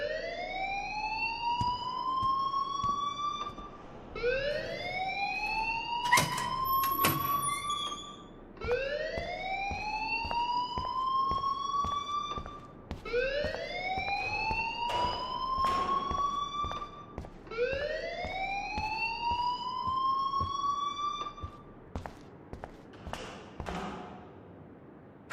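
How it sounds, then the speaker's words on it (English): A fire alarm in the video game Life Is Strange wails in about five repeated rising electronic sweeps. Each sweep is loud and clear against a quiet background, with a few soft clicks between them. "please turn off that alarm since that's your job"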